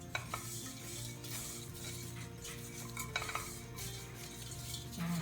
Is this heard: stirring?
yes